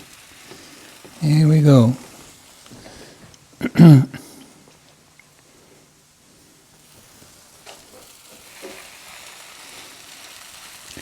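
Chicken quesadilla frying in a buttered pan gives a faint, steady sizzle, with someone speaking briefly over it near the start.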